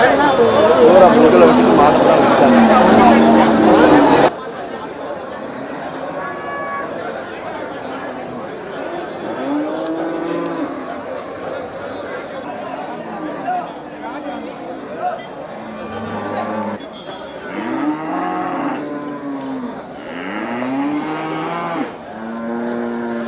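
Cattle at the Melapalayam cattle market moo repeatedly, several loud low calls spread through the clip, over a busy background of crowd chatter and people talking nearby.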